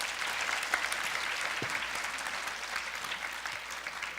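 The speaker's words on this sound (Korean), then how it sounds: "오늘 발표해 주신 연자분들과 저기 토론자분들에게 많은 박수 부탁드립니다" Audience applause after a Korean national dementia management workshop symposium, clapping steadily and fairly evenly for the speakers and panelists, moderately loud with no talk over it.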